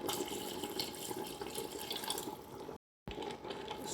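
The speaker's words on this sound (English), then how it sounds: "That's my half glass of water you have to put in." A half glass of water is poured into Nigerian-style fried beans seasoned with paprika, giving a steady close sizzling and watery splashing that runs on and breaks off briefly near the end.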